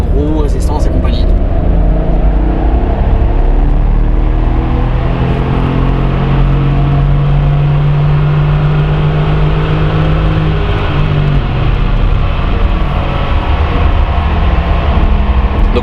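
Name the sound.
Mercedes G63 AMG engine revving on a dynamometer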